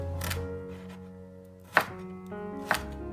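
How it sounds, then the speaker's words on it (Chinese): Knife chopping Chinese toon leaves finely on a board, a few sharp distinct knocks spaced apart over a quiet kitchen background, close and clear with no talking. "把香椿切成香椿末，"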